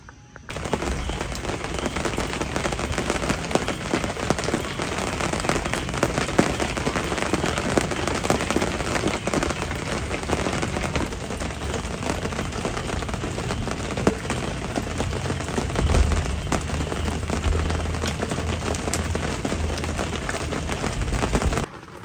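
Steady rain pours at a foggy mountain campsite beside a Hilux 4x4, a dense, unbroken hiss of drops pattering on surfaces, close and fairly loud throughout with no voices.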